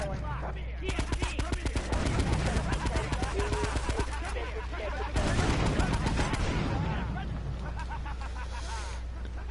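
Sustained gunfire in the video game GTA, rapid bursts of shots running continuously over a busy game mix with voices talking in the background.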